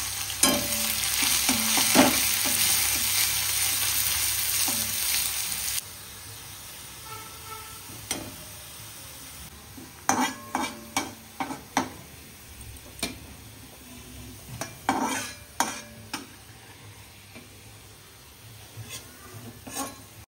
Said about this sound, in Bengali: এখন পেঁয়াজটা ভেজে নিই, বেরেস্তা বানিয়ে নিই।